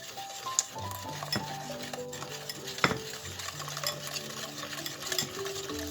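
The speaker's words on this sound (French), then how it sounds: "je vais y déverser petit à petit en fouettant le lait qui a chauffé sur le feu" A whisk stirs hot milk into a pastry cream mixture in a bowl, giving a continuous close scraping and sloshing with occasional sharp clinks against the sides and no speech.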